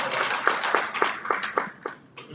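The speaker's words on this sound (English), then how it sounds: "Round of applause." A small audience at a university partnership forum gives a brief round of applause, sparse, fairly close hand claps in an uneven rhythm that thin out and fade within a couple of seconds.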